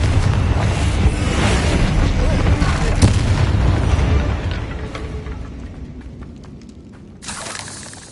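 Spell explosions crash and boom through a Hogwarts Legacy battle, loud and dense with a sharp burst near the three-second mark, then thinning out before a final flare near the end.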